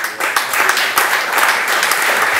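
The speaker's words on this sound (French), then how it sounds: "Je vous demande de l'applaudir, s'il vous plaît." Loud, dense audience applause at an association's assembly, welcoming the quarry manager Xavier Otero to the stage, sustained and even throughout.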